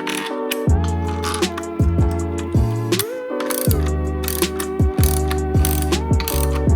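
Wrench ratcheting down subcage bolts on a 2001 Honda F4i stunt bike, loud close ratchet clicks in rapid bursts with brief pauses between strokes, no talk.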